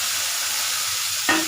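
Medium tomatoes frying in an egg drop curry pan, a loud continuous hiss of sizzling oil, with a brief stir or clink of the spoon near the end, no talk.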